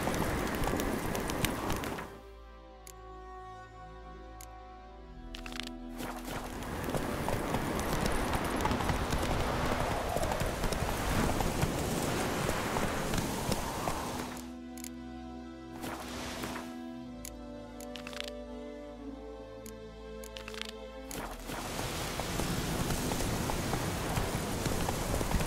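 Hoofbeats of Roach, Geralt's horse in the video game The Witcher 3, clip-clop steadily through most of the stretch with rhythmic, fairly loud thuds, joined by a layer of game music and ambience that swells and fades.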